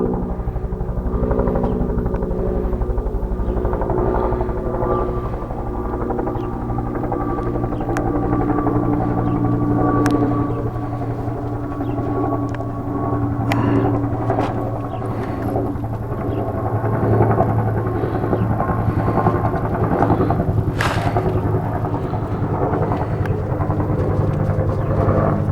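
A sheriff's department helicopter flies overhead in a residential neighborhood in San Bernardino County, its loud rotor thumping steadily and continuously for the whole stretch with no voices over it.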